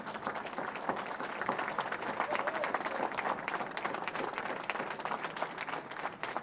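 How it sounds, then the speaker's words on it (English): A seminar audience at a business summit in Gandhinagar stands and applauds, a steady, moderately loud wash of clapping from many hands throughout. "may I suggest we all stand up and give Bhupendra Bhai a standing applause"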